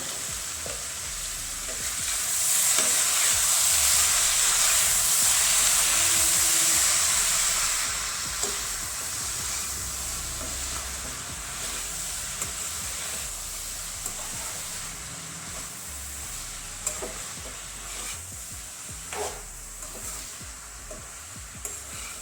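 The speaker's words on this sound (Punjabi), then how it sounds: "ਸਬਜ਼ੀ ਨੂੰ ਆਪਾਂ ਹੁਣ ਹਿਲਾ ਦਵਾਂਗੇ" Radish and potato curry, with radish leaves, sizzling in a pan while being stirred: a steady close frying hiss that swells louder for a few seconds early on, dotted with light scrapes and clicks of the utensil.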